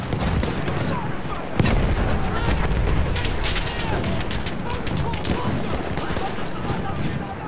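Battlefield 1 combat brings a hand grenade blast and dense gunfire, a continuous loud barrage of overlapping shots and booms with a sharp burst standing out early on.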